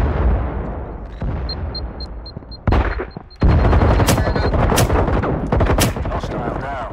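Heavy gunfire in the video game Firewall Zero Hour: dense rapid bursts and sharp single shots, loud and close, with short gaps between volleys.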